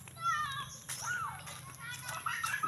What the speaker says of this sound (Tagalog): Mga bata, uy, ang ingay nila.